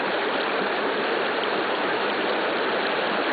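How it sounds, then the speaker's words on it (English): Gas bubbling up through the water of a creek seep gives a steady, dense gurgling wash, continuous and fairly loud throughout, with no voices. "It's still bubbling all around it."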